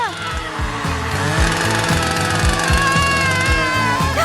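A saw cuts steadily in a loud, continuous grinding buzz with a regular pulsing stroke rhythm, close and unbroken for several seconds, with a faint voice underneath.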